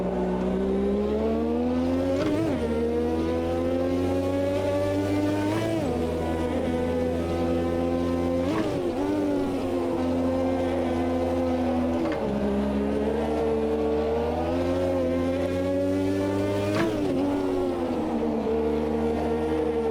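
A Lotus 98T racing car's engine screams loudly and continuously while drifting through a corner, its high-pitched note rising and dipping with throttle and gear changes in repeated surges.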